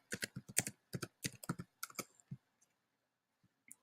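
Quick bursts of keystrokes on a computer keyboard as a website name goes into a browser address bar, close and crisp, clustered in rapid runs then trailing off into a few isolated taps.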